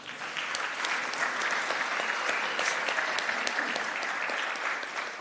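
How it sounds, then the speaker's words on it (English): Sustained applause from an audience at an annual general meeting, steady and full throughout, with dense overlapping claps and no talking over it. "let's just give them a round of applause"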